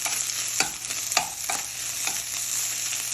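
Fried rice seasoned with salt is stirred in a hot pan, a soft steady sizzle broken by about five scraping strokes at irregular intervals, close up and with no talking.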